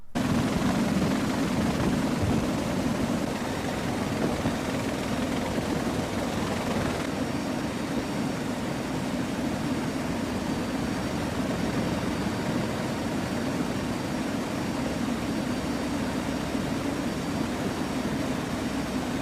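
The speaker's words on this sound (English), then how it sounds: "Here's some beautiful footage of a helicopter coming to refuel while also carrying some heavy cargo." Helicopter flying in to refuel while carrying a heavy slung cargo, a steady loud rotor and engine drone that holds evenly throughout with no speech.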